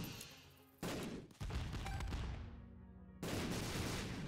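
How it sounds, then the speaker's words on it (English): Video game bombs go off in loud, dense bursts of blast and crackle, cutting out briefly and then slamming back in as a fresh wave of explosions near the end. "Then all those bombs double explode as well."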